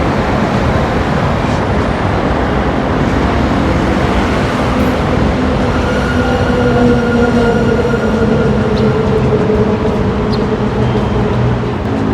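An elevated train rumbles past loudly overhead on a yellow-line railway, a steady roar of wheels and rail noise with faint squealing tones, heard from close by beneath the track.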